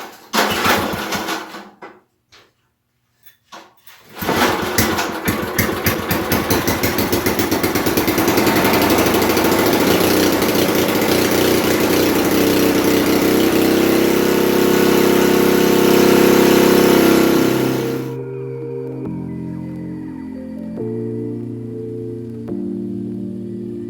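After a few cranking attempts and a pause, the engine on a Cub Cadet tractor-mounted snowblower catches and runs with a loud, close, rattling drone that revs up, then settles into a lower, uneven idle.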